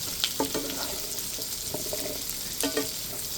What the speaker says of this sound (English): we're just going to kind of stir fry all of this here in the pan, and get it a little bit tender